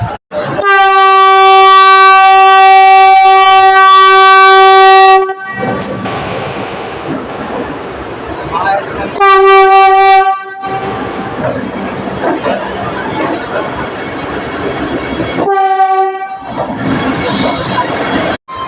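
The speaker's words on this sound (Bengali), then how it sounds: "ট্রেন ছেড়ে দেওয়ার টাইম হয়ে গেছে, তোমাদের ডিপার্চার দেখাচ্ছে। দেখো গেটের সামনে কত ভিড়, ট্রেনে হর্ন দিয়ে দিয়েছে" Loud, sustained train horn blasts at a station as a train departs, one long blast then shorter ones between stretches of platform crowd noise and rumble.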